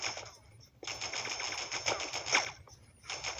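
Rapid bursts of automatic gunfire in the 2000 Spider-Man video game during a police chopper chase, crackling in dense volleys with a short gap near the start and a fresh burst at the end.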